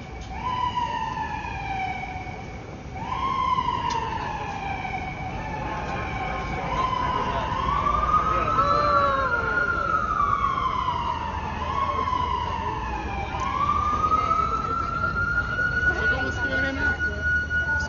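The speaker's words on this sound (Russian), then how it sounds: "Не, это скорая." An ambulance siren wails along a street at night, its rising and falling tone sweeping repeatedly and staying steady and fairly close over low road noise.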